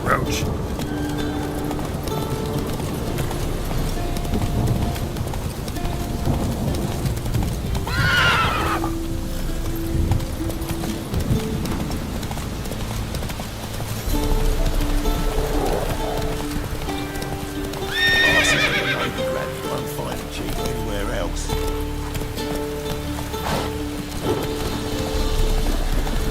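Geralt's horse Roach in The Witcher 3 clip-clops steadily, with loud whinnies around 8 and 18 seconds over a game music and ambient bed.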